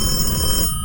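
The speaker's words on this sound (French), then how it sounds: "c'est le téléphone qui sonne" A telephone ringing indoors at night, a loud, close electronic ring that fills the moment and cuts off near the end.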